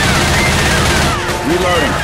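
Loud, sustained shooting in Left 4 Dead 2 as survivors fire on a witch, a dense barrage of overlapping shots with a voice calling out briefly underneath.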